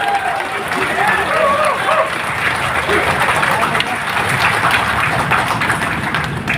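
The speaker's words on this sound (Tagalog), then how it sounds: "isang mainit na palakpak bilang pasalamat sa MMDA" Warm applause from a crowd at a groundbreaking ceremony for a senior citizens park and pet park in Nagtahan, a dense steady clapping wash lasting several seconds with voices mixed in.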